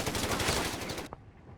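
MP40 submachine guns fire a rapid, loud automatic burst in the Company of Heroes 3 strategy game, then cut off sharply and leave a faint tail.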